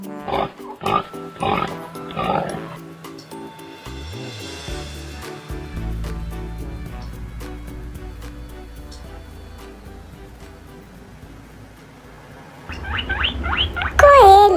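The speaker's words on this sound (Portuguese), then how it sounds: "Porco." Pig oinking: short grunts and squeals at the beginning, then a quieter musical stretch, then a burst of high squealing near the end.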